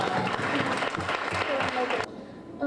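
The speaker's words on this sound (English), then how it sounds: "Please give them another round of applause." An audience claps at a student event, a dense wash of applause with voices calling out over it, cut off abruptly near the end.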